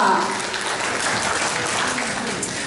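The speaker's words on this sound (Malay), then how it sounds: "Dan berikan tepukan gemuruh kepada Presiden Firzu" A seminar audience in a business talk hall claps for a company president, a fairly loud, continuous patter of applause with some voices and chatter mixed in.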